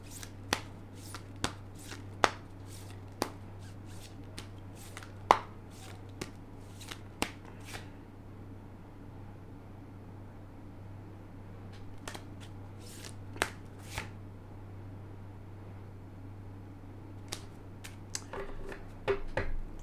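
An oracle card deck being shuffled by hand, with sharp intermittent snaps and riffles spaced out over a steady low hum, close and fairly quiet, with no talking.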